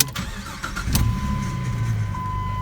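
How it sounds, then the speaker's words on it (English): A Jeep engine cranks briefly and catches after an oil pan gasket replacement, then settles into a steady, rumbling idle close by. "we're just going to start it, run a little bit, let it warm up a little"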